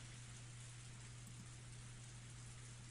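Heavy downpour in the Higurashi When They Cry game, a steady, dense broadband hiss of rain with a constant low hum beneath, unbroken and fairly quiet throughout.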